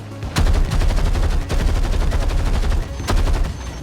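Anti-air tank guns fire in Battlefield 6 in rapid, loud, continuous bursts with a booming low rumble and sharp cracks, broken by brief pauses.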